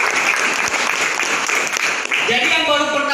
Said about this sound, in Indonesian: banyak sekali aplaus untuk yang baru pertama kali hadir